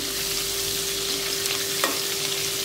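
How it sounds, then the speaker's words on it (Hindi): Vegetables and garlic stir-frying on a high flame for veg fried rice, a loud continuous sizzle with a steady hum and one brief scrape of the utensil, no voices. "फ्लेम हमारा हाई रहेगा फ्लेम आपको लो नहीं करना अच्छे से भूनेंगे"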